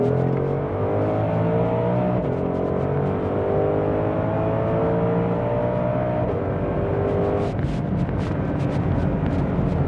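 A 2020 Shelby GT500 with Lethal Performance modifications accelerating hard in sport mode, loud continuous engine roar rising in pitch through several gear changes, ending in sharp exhaust crackles.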